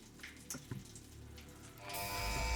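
Rain falling in the factory-building video game Satisfactory: a light patter of drops early on, then a steady, louder downpour swells in over the final second, alone with no talk.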